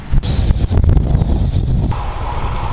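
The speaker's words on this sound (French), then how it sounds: "Je sens bien le vent quand même là." Steady wind roars and buffets close to the microphone while riding a Van Rysel RCR road bike, with a low rumble and occasional gusty thumps, and no voices.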